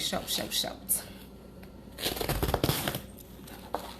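A sharp kitchen knife cuts a cabbage in half and shreds it into small pieces, giving crisp, crunchy slicing sounds in quick irregular bursts close by, with a voice talking over the cutting.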